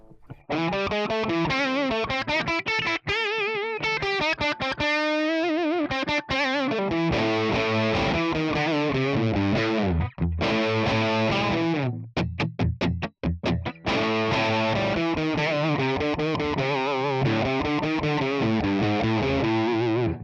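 An electric guitar plays through a Tonex One amp model with only a noise gate and no reverb, giving distorted, dry riffs and chords with sharp stops and abrupt silences between phrases.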